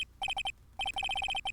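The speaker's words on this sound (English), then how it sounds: "All of a sudden, the phone began to ring." Phone ringing in the Ace Attorney video game: a bright electronic ring in quick repeated double pulses, a short burst, a brief gap, then a longer run of evenly spaced rings, loud and close with no talking.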